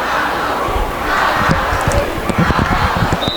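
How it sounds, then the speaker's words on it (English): Glacier Peak cheerleaders rouse the crowd at a high school football game against Shorewood, with a loud, nearby chant and crowd noise rising together, punctuated by rhythmic thumps. "Glacier Peak cheerleaders getting the crowd fired up"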